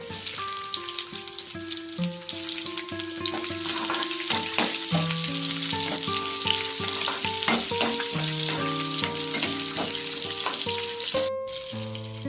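Onion frying in oil makes a constant crackling sizzle with occasional stirring clatter, running steadily for several seconds under a layer of background music.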